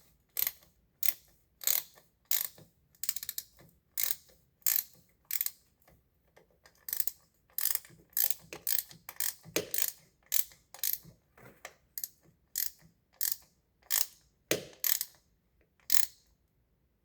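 A ratchet wrench tightens a bolt on a brake-line bracket during a Duramax LBZ piping and bracket install, giving close, crisp bursts of clicking in a steady repeating rhythm with short pauses between strokes.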